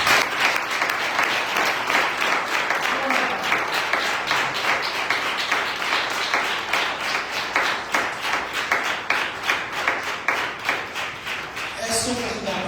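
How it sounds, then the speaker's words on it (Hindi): A congregation at a Palm Sunday church celebration gives sustained, hearty applause, many hands clapping in a steady, slightly rhythmic stream that continues loudly for over ten seconds. "खुदा के लिए एक जोरदार तालियां"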